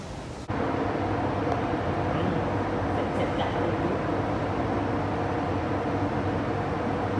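A train rolls past at Mei Foo Station in Hong Kong as a steady, broad rumble that cuts in suddenly and stays even and fairly faint throughout.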